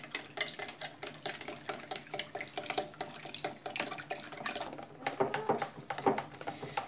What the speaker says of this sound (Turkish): Bunları bir çırpayım güzelce.